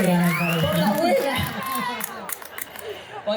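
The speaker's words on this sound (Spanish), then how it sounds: "Y ¿por qué aplauden?" A crowd at the third Flores book fair in Argentina cheers and claps, with mixed voices and shouts rising together, then scattered, thinning applause trailing off toward the end.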